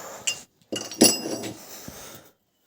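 Three metal disc springs from the overload clutch of a Fortschritt T088, one of them cracked, clink and rattle as they are handled, with a few bright metallic knocks close by and no talking.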